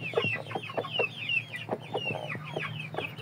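Ganoi and shamo fowl cluck steadily in short repeated calls, close by, over a low constant hum, with no talking.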